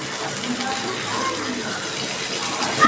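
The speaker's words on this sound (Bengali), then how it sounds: "আমি দিয়ে দিচ্ছি ডাবের জলটা" Coconut water pours into a cooking chicken dish in a pan, a soft continuous trickling splash running steadily for a few seconds.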